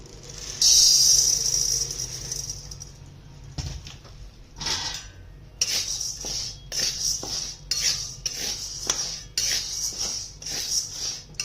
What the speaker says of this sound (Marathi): साबुदाणे असेच भाजून घेते मी।